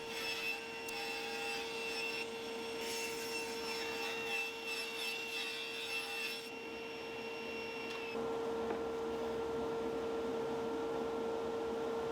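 Power saw cutting plywood shelves in a workshop, a steady whining machine drone running continuously with a shift in tone partway through, loud and close with no talk.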